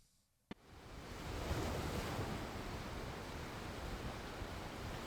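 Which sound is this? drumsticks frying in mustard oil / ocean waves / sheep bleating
ocean waves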